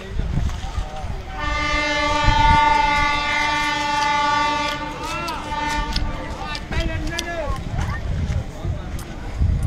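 A passenger train bound for Guntur sounds a long, loud horn blast, then rumbles and clatters past with screeching wheels and bursts of noise, people talking nearby.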